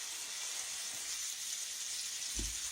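Catfish fillets frying in a pan, a steady, close sizzle with constant hiss throughout and a soft low bump near the end.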